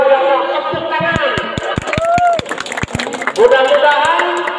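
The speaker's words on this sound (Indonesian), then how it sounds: "Tepuk tangan" Clapping from a crowd at an anniversary celebration of a Sundanese reak folk-art group, sharp claps standing out alongside drumming and voices, with talk and chanting over it.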